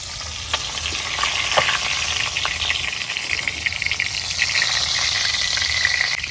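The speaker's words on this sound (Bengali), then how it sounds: "আমার মাছটা ভাজা হয়ে গেছে" Fish sizzles loudly in hot oil in a home kitchen, a continuous close crackle with scattered pops and spits and no talking.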